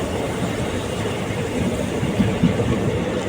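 A passenger train on the Salem to Mettur Dam line rolls steadily along, a continuous low rumble with faint wheel clatter, heard from on board with no talking.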